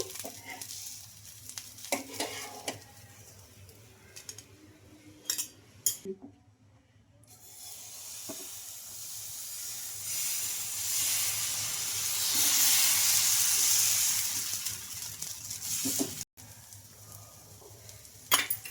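A rice flour dosa cooks on a hot pan, with soft scraping and light sizzle giving way to a long, swelling hiss of frying for several seconds before fading to quieter sizzling.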